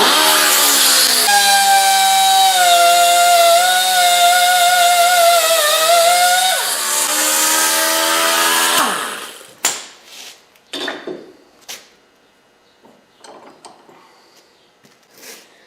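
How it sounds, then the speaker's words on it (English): A die grinder cuts through the end of a hollow metal brush stem clamped in a vise, a loud steady high-pitched whine for about nine seconds, then it spins down and a few sharp clanks and taps of handling follow. "Now I'll just cut off the very end of it."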